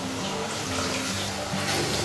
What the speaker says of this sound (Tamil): இப்போ நம்ம கொஞ்சம் போல் தண்ணியை மிக்சரில் சேர்த்து இதோட சேர்த்துடலாம்.